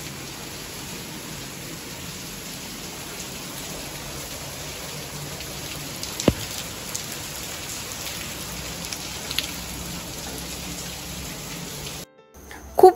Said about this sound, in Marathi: पाऊस जोरात पडायला लागला.